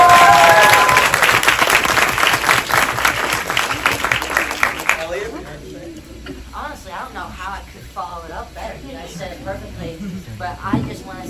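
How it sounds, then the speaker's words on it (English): Audience at a Terrifier 3 horror screening event claps, loud dense applause for about five seconds, then it drops away and someone speaks over a quiet room with a few lingering claps. "So give yourselves a round of applause right now."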